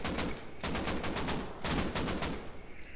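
AK fire in the video game Rust, two sustained bursts of rapid automatic shots, loud and close, with a short gap between them.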